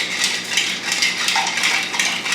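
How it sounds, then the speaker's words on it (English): A Negroni being stirred in a glass: a continuous bright tinkling and rattling of ice against glass from a bar spoon, close and fairly loud, with no talking. "Okay, so I'm just stirring that up."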